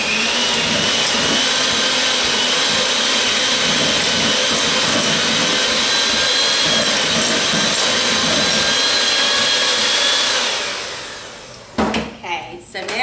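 An electric beater whirs loud and steady for about ten seconds while mixing pina colada pie filling in a bowl. It then winds down, followed by a few clatters.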